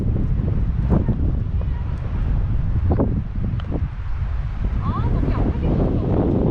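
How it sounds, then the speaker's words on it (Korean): Wind gusting across a golf course at Blue One Yongin CC, buffeting the microphone. It makes a constant low roar with rumbling surges throughout, and faint background activity sits beneath it. "이것도 약하고 바람이 불어요"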